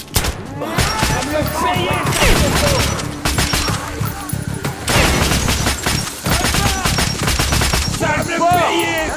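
Dense bursts of automatic gunfire and booms fill a Metro Last Light battle, rapid shots crackling almost nonstop, while someone shouts in French over the shooting.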